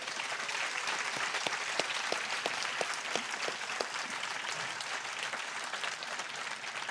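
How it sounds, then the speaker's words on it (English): Audience at a writers' festival in Adelaide applauds steadily for several seconds, a dense, even patter of many hands with no talk over it. "could we have a round of applause for Lisa"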